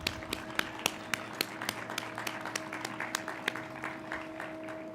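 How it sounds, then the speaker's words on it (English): A round of applause at a graduation ceremony, quiet and distant, with sharp individual claps standing out over a steady patter of hands and a faint electrical hum beneath. "Can you please give them a round of applause for their support to you?"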